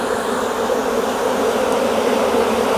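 Honey bees buzz loudly and continuously around an opened hive full of brood and pollen frames, a dense, close swarm drone with no talking.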